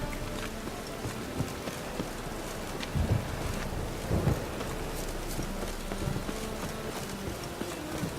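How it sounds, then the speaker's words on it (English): Video game rain and thunder: steady rain hisses throughout while low thunder rumbles roll in a couple of times, with no voices. "Rain again."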